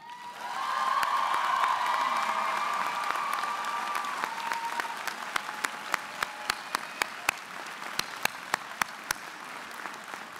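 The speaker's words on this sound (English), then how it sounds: "Please join me in giving a warm round of applause" Audience applause at a Radford University winter commencement ceremony, honoring the faculty: a full, steady round of clapping from a large crowd that swells quickly and holds, then thins toward scattered individual claps near the end.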